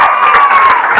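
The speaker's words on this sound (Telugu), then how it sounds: "ఒకసారి గట్టిగా చప్పట్లు కొట్టి" Students at a government college applaud loudly in a brief, dense burst of clapping and crowd noise over a steady tone.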